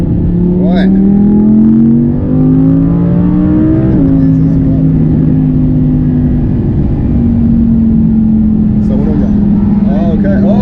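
An Audi R8 driving hard on a race track, its engine droning loudly and steadily with rising pitch under acceleration and a brief lift near the middle, heard from inside the car.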